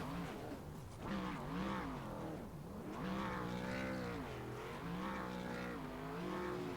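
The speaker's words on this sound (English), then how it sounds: "I was going to wait to start talking until he finished his burnout, but it's going on for a while here." Race car doing a long, drawn-out burnout at an oval track event, engine revving in rising and falling waves with tire squeal layered on top, loud and continuous throughout.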